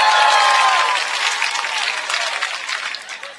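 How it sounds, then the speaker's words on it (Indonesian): Crowd at a morning religious gathering clapping for farmers, a bright continuous patter of many hands that gradually thins and fades toward the end. "tepuk tangan dulu dong buat petani"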